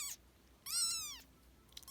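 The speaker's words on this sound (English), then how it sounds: "I would like you to meet Mozart. Here he is. He's 10 days old" Mozart, a 10-day-old rescue kitten, gives two high, thin meows close by, one brief and one longer and rising, in a quiet room.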